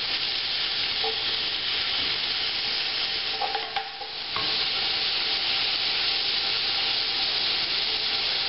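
Bacon frying over medium-high heat while being broken up and stirred in a pan, a loud continuous sizzle with scraping stirs and a brief dip partway through.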